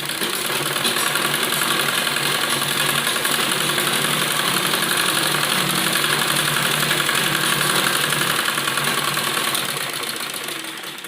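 A sewing machine runs steadily, stitching a baby frock, its fast even mechanical whir close and loud for the whole stretch before easing slightly at the end, with no voices.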